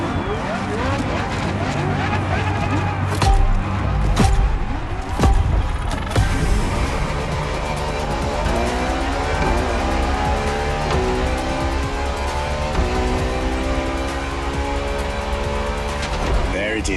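A 2013 Ferrari supercar from Maranello races in The Crew Motorfest, its engine revving loud and steady through gear changes with tire squeals mixed in, under a narrator's voice.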